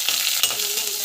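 Chana dal, curry leaves, green chili and onion frying in a pan, a steady close sizzle with a few brief stirring clinks and no talk.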